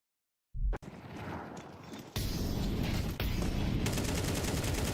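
Sustained automatic gunfire in Counter-Strike 2, a full magazine sprayed into a box: a brief shot, a short pause, then continuous rapid fire that grows louder and denser, dominating the mix.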